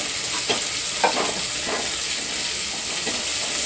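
Pulao ingredients frying in a pan, a steady close sizzle with occasional scraping stirs, continuous and fairly loud, no talking.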